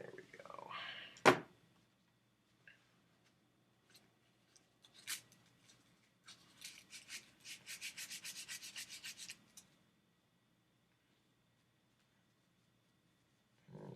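Sandpaper rubbing along a handmade wooden wand in quiet bursts: a few isolated scrapes, then a steady rapid run of short back-and-forth strokes for several seconds before silence.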